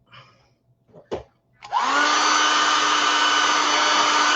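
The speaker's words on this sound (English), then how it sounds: "my dollar store hair dryer" A cheap dollar-store hair dryer switches on with a rising whoosh and then blows steadily and loudly, preceded by a few soft handling clicks and a brief rustle.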